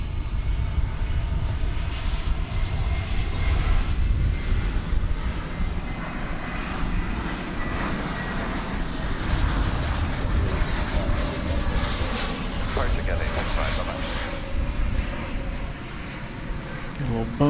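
A Frontier Airlines jet at DFW Airport at night sends a sustained low engine rumble across the whole stretch, with a voice talking over it partway through.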